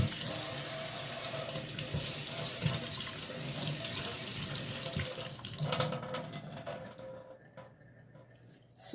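Tap water pours steadily into a sink as raw sugar cane is rinsed, a continuous close splashing rush with occasional knocks of the cane, the flow thinning and stopping near the end.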